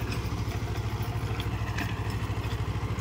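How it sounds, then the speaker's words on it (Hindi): A tractor pulls a 5.25-foot Field King rotavator through a wet, grassy field, its engine chugging in a steady, rapid pulsing rhythm, close and fairly loud, with no talk. "फील्ड किंग का रोटावेटर है किसान भाइयों।"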